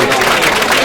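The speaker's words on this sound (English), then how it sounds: "let's please give him a round of applause" An audience applauds at an oral history event in Harlem, with a short, loud, dense wash of crowd clapping and cheering close by.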